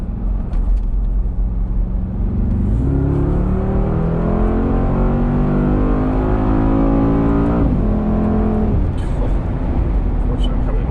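A Mercedes-AMG G63 in Sport Plus pulls hard onto a freeway from inside the cabin, its engine rising in pitch through a gear then climbing again, loud and continuous.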